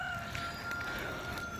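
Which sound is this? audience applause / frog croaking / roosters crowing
roosters crowing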